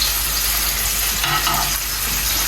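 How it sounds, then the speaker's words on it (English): Onion and pepper fry in a pot for okra soup, giving a steady, loud sizzle with a brief burst of stirring near the middle. "I'm going with my onion and pepper, and then allow it to fry up a bit"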